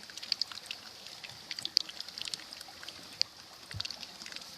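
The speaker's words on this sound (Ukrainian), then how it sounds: "Це вода, яка йде з гір." Mountain spring water trickles and splashes steadily, with a faint hiss and occasional droplet plinks close by.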